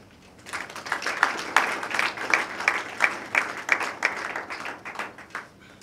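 An audience at an awards ceremony for actors and comedians breaks into applause. Loud, dense clapping rises quickly, beats in a steady pulsing rhythm for several seconds, then dies away.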